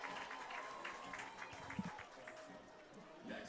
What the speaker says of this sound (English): JJ the Bat Dog gets a nice round of applause.